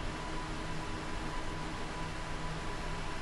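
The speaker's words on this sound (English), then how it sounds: "The sound of fans spinning and the computations being made" Computer server fans spinning in a data centre, a steady, even broadband whoosh that holds constant throughout, fairly faint and with no talk.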